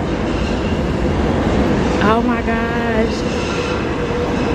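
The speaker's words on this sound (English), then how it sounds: "The train is coming. Look at it. Oh, that's the 4 train." A New York City subway train pulls into the station with a loud continuous rumble and high squealing wheels and brakes, as a person exclaims briefly over the din.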